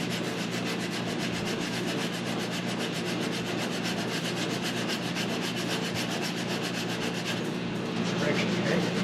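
Coarse 36 grit sandpaper rubs back and forth across a wooden bowl in a fast, even rhythm of scratchy strokes, close and continuous for several seconds.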